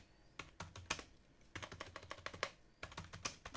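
Someone types on a computer keyboard into ChatGPT, with quick, uneven clusters of close key clicks and brief gaps between bursts. Nobody speaks.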